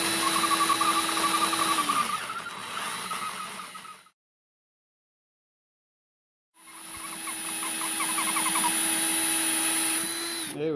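A power drill whines steadily for a few seconds, pitch dipping as the bit bites into a stuck metal part of a DW3634 pressure washer pump, then stops in silence before whirring again.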